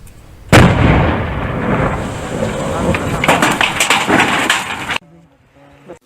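An army detonation of a Pakistani mortar shell near a school in Kashmir: a sudden loud blast followed by a long rolling rumble that cuts off abruptly. Afterwards someone speaks.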